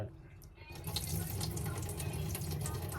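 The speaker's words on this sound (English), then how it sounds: "We're going to drain this water here." Salty water drains from a sink beside an offset smoker, a steady rushing gurgle that swells after a quiet start and continues alone without a break.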